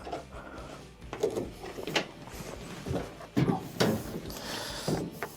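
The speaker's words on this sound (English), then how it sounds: "Make sure the door closes." A washing machine door swung and pressed shut during a washer repair, several close plastic knocks, thuds and latch clicks in an uneven sequence, with handling noise between them.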